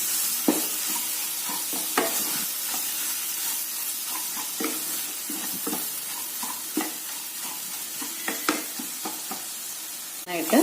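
Ginger-garlic paste sautéing in a pan for a gravy chicken curry, a steady close sizzle with frequent stirring scrapes and light clinks of the spoon throughout.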